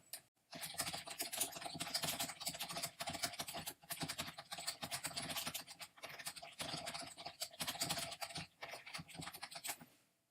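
Fingers type steadily on a computer keyboard, a dense, close run of rapid clicks and key taps lasting about ten seconds with only brief pauses.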